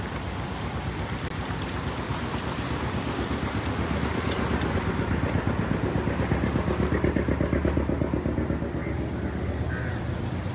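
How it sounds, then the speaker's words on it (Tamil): A motor boat approaches on open water, its engine a steady throbbing drone that grows louder toward the middle, with wind and water noise around it. "அங்கே இந்த போட் ஒன்று வந்து கொண்டிருக்கு"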